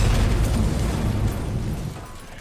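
A propane tank explodes in Resident Evil 2, a loud booming blast that fades out over a couple of seconds with no talk.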